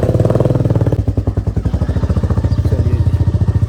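A motorcycle engine on a trip in Nepal putters steadily at idle, loud and close, with a fast regular thumping pulse and a brief change in tone near the start.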